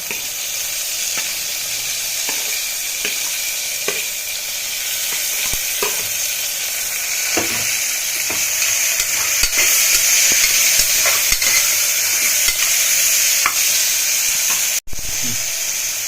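Chopped tomatoes added to fried onions in a hot pan for a ridge gourd curry, making a loud continuous hissing sizzle with faint rhythmic stirring ticks and one brief dropout near the end.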